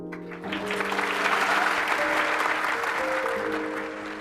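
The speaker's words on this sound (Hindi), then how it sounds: "अब जब मैंने ये बोला आपने तालियां बजाई" An audience at a motivational talk bursts into applause, a full, even round of clapping swelling and holding, with a few sustained tones and a voice faintly beneath.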